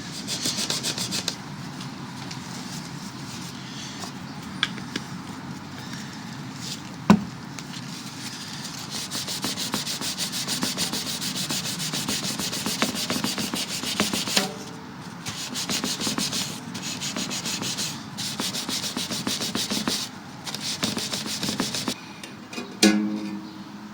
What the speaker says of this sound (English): I'll rub it down with some artist refined linseed oil, which is what I use on my fretboards.